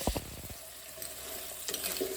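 Crab masala frying in a pan is stirred, with a couple of sharp scraping clanks at the start over a soft steady sizzle, and no voice.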